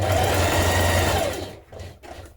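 A sewing machine stitches the neck edge of a knit dress made from Butterick pattern 6858. It whirs steadily and close for about a second and a half, then stops and gives two short bursts of stitching.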